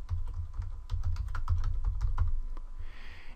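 Rapid keystrokes on a computer keyboard as a preset name is typed in HitFilm, a close, quick irregular patter of about two dozen clicks that stops near the end.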